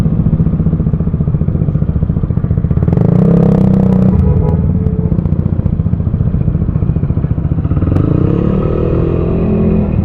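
A motorcycle with an open muffler runs through city traffic, its loud, steady low engine rumble close by and continuous, with a few revving swells and clattering thumps over the drone.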